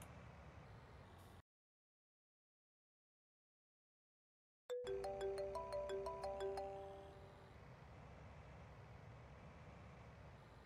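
A phone rings inside Farming Simulator 19, a loud, bright electronic ringtone with repeated melodic tones that starts abruptly after a stretch of silence, layered over steady in-game background noise.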